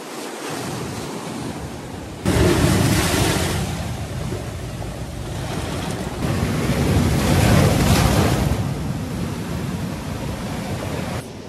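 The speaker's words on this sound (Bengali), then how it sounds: "জাস্ট হোটেলের সিঁড়ি দিয়ে নামলেই তোমার সামনে সমুদ্র।" Sea waves break on the beach at Mandarmani just below the hotel steps, a loud continuous roaring wash that surges and swells, mixed with wind buffeting the microphone, with no voices.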